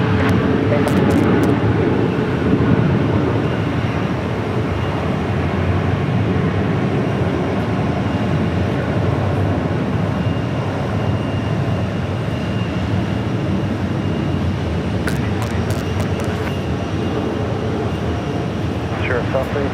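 A Southwest Airlines airliner landing at Phoenix Sky Harbor Airport, heard as a loud, steady roar of engine and rushing air that carries on without a break, with brief clicks near the start and end.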